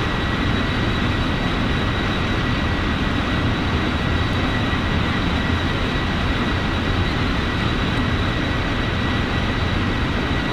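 A Rolls-Royce aircraft engine in the FSX flight simulator drones on as a steady, loud, unbroken roar with a thin high whine running through it for the whole stretch.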